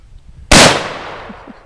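A shotgun fires a single loud, sharp blast on an outdoor range, its report decaying over about a second with no talk during the shot.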